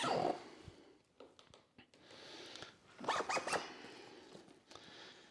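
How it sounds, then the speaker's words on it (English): A pocket zipper on a Kuiu Divide 2800 hunting backpack is pulled closed, heard up close as several short rasping zip strokes with small handling rustles and clicks between them. "So zip this back up."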